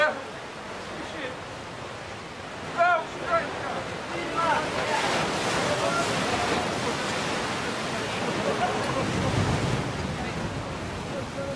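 Heavy ocean surf roars continuously as large waves break and wash around men in the water during a sea rescue, loud and close, with brief shouting voices near the start.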